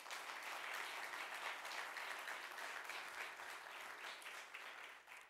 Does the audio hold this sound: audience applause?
yes